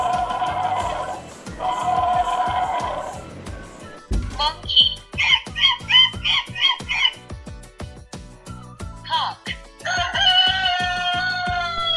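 A children's interactive touch book plays recorded farm animal sounds, with loud rooster crowing and squawking chicken clucks in bursts, separated by short gaps and electronic tones, close and clear.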